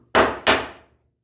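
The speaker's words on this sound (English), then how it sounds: "especially when you're hitting with a hammer, make sure you keep your fingers underneath" Two crisp metallic taps of a hammer striking a chisel cutting dadoes in walnut, close and fairly loud, spaced about a third of a second apart, each ringing briefly before silence.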